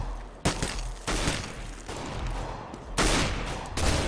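CS:GO competitive match gunfire: close, heavy bursts of shots separated by brief gaps, loud and booming with no talk over them.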